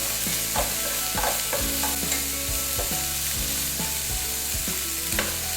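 Ginger garlic paste and thinly sliced red and yellow peppers are stir-fried for pad thai: a constant sizzle under repeated rhythmic clanks and scrapes of the spatula against the pan, with no voices.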